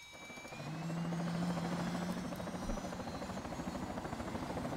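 A helicopter lifting off in the video game Arma 3, its rotor giving a steady, pulsing whine and thrum that swells early and then holds at a constant level with no talk over it.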